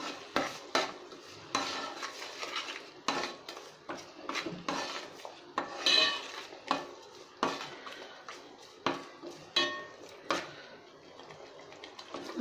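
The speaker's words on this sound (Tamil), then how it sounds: "இதையெல்லாம் நல்லா மிக்ஸ் பண்ணிக்கலாம்." Repeated scraping and clinking of a spoon stirring Kerala fish curry with coconut milk in a pan, an irregular rhythm of strokes close by, with no voices.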